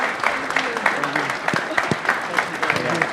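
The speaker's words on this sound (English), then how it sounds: "So if we can give them a big round of applause and thank them for" A crowd claps for the organizers of The Captain's Table 2022 challenge event, a lively patter of hands under overlapping voices talking and cheering nearby, with a few sharper individual claps standing out.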